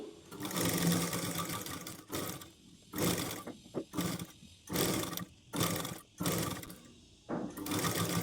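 A sewing machine stitches along a saree edge in short bursts, each run of rapid mechanical whirring stopping and starting several times, close and clear with brief pauses between runs.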